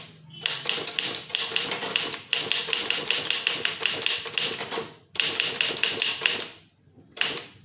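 A typewriter used to type an official letter in Tamil rattles with rapid, continuous keystrikes close up, broken by brief pauses for the carriage return before the clatter resumes.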